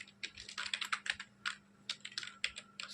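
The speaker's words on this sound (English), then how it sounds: "So let me write print hello, print Ram." Fingers type on a computer keyboard while entering Python code, a quick irregular patter of close, crisp key clicks with short bursts and pauses under a steady low hum.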